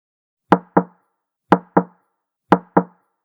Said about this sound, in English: She knocked on the wall.